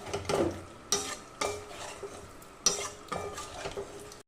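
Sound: jackfruit and potato being sautéed with spices and water

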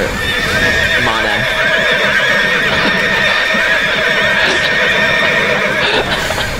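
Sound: horse neighing in the video game TERA

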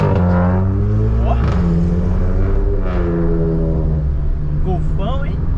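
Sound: Volkswagen Golf with loud exhaust driving past

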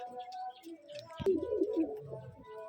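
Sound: Rajshahi Giribaj pigeons cooing at a pigeon farm

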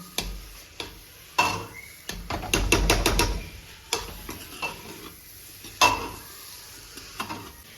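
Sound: radish curry being stirred and roasted in a pan

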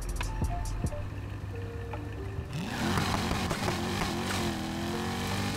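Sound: V8-swapped Lamborghini Huracan launching, NFS Heat video game

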